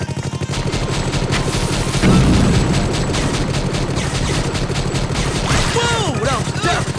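Rapid gunfire hammers at a turret in the Awesomenauts video game, a steady dense volley of loud shots with a heavier burst near the start and whooshing effects toward the end.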